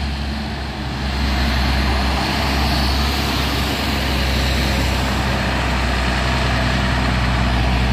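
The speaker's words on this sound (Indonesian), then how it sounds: "ada juga truk Hino box menanjak." Hino box truck laboring up a steep hill at Bukit Kodok, its heavy diesel engine droning steadily and loudly at close range throughout, with no talk.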